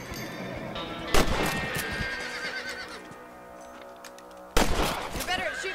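Gunshots ring out while hunting rabbits in Red Dead Redemption, two sharp broadband cracks a few seconds apart over a busy Western game soundscape with horse whinnies and clip-clop hooves.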